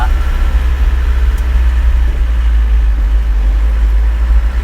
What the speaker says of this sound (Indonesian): Mesinnya mesin diesel.